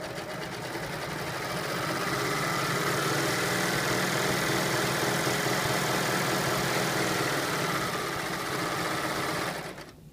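Serger sewing a narrow rolled hem along a fabric edge: a steady, loud, fast mechanical whir that runs continuously for several seconds, then winds down and stops.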